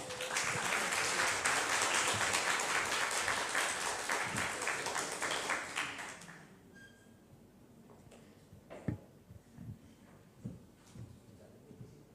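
Audience at a public university lecture in Kirikkale applauds loudly and steadily for about six seconds, then the clapping fades to a few scattered claps and faint room noise.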